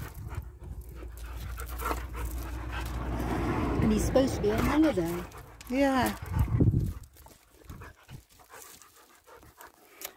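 Pet dogs in a house panting heavily and close by, with a few soft whimpering whines in the middle, under people chatting throughout.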